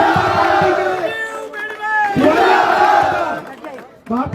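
Rally crowd at a political gathering welcoming a former legislator cheers and shouts loudly in bursts, voices rising and falling close by with scattered claps beneath.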